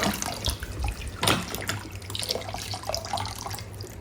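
Water sloshes and splashes steadily up close, with gurgling bursts and dripping as a sealed waterproof hard case is pushed around beneath the surface.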